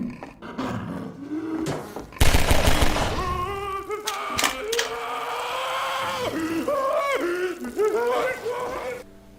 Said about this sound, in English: listen to the noise the zombie makes when set on fire.